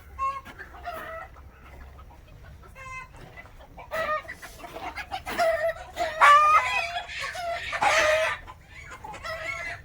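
Free-range country hens in a poultry shed cluck and squawk repeatedly at close range, with a rooster crowing among them and the calls growing louder toward the end.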